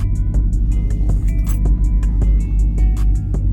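A 2019 Dodge Charger Scat Pack 392 running loud and close, with a heavy low exhaust drone throughout and regular ticking and clicking sounds on top of it.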